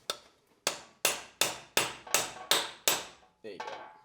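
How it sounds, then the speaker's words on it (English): Seven sharp, evenly spaced metal hammer blows drive an axle back into a Toyota 90 Series Prado, loud and close with ringing decays, then a lighter rattling knock, no talking. "if you needed a pry bar to get your axle out, you'll need a hammer to get it back in"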